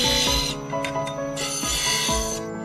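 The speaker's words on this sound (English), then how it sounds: "Now we are polishing the first tier of the pavilion" A polishing wheel works the pavilion facets of a garnet, making a steady close mechanical whir with a sustained tonal hum and a bright rubbing hiss that briefly drops out and resumes.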